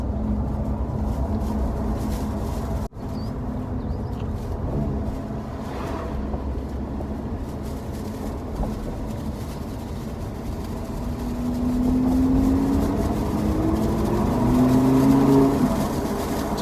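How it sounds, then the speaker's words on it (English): V10 engine idling with a steady low rumble heard from inside the car with the window down, then rising into a few revs toward the end. "Just that V10 noise puts a smile on my face every time."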